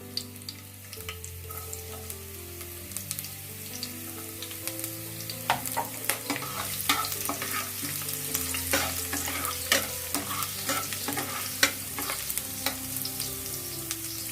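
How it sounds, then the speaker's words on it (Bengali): Chopped garlic crackles in hot oil in a home kitchen, a dense, steady sizzle with frequent sharp pops and spatula scrapes, close up, with a faint tonal hum running underneath and no voices. "দেখুন তেল গরম হয়ে গেছে। এই তেলের মধ্যে আমি রসুন কুচিটা"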